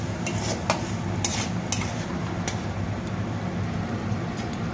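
Fried paneer is stirred into an oily spice masala in a pan, with a low steady sizzle under repeated sharp scrapes and clicks of a spatula against the pan.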